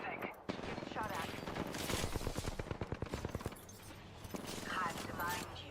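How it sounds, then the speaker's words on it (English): Rapid gunfire from a multiplayer shooter video game aimed at the player, a dense run of sharp shots growing into a fast burst mid-clip over constant game noise, with voices speaking throughout. "Getting shot at."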